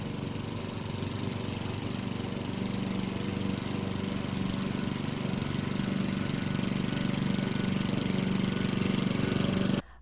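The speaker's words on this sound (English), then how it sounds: "A gas lawnmower 31 meters or 100 feet away will create a sound level of approximately 75 decibels." A gas lawnmower engine runs steadily at a distance of about 31 meters, a constant droning hum with no pauses, cutting off abruptly at the end.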